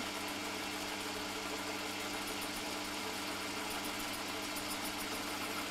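A Holzmann ED 750 FDQ metal lathe runs while turning stainless steel, giving a continuous, even mechanical drone with a faint high whine and no pauses.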